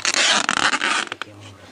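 Adhesive tape is pulled off the roll and pressed onto foam insulation wrapped around a water supply pipe, a loud ripping screech in quick bursts for about a second before fading into quieter handling.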